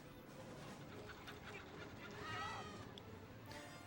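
Chickens clucking and squawking atop a bus in a film scene, several birds calling over a busy, noisy background with a brief louder squawk near the middle, no clear talk.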